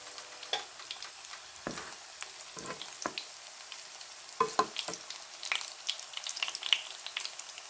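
Vegetarian Brussels sprout burgers frying in oil, a soft steady sizzle with scattered crackles and pops, fairly quiet and close, no talk.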